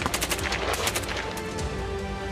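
An AK-203 assault rifle fires in rapid bursts, a dense rattling volley of sharp cracks over continuous rumble, loud and close with no voices.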